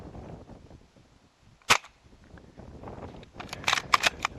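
S&T SMLE airsoft rifle fired on an outdoor range at 50 metres: a single sharp snap, then a cluster of quieter clicks and rattles from handling the rifle, fairly faint against quiet background.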